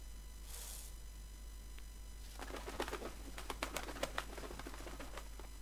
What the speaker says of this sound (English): There's a pigeon saying, oh, hey, our pigeon.